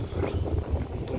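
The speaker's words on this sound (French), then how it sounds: "là il y a du vent, j'espère que ça ne gênera pas au niveau du son" Outdoors at a photovoltaic panel mounting-rail installation, wind buffets the microphone in a continuous low, rumbling roar that swells and dips unevenly, with no speech.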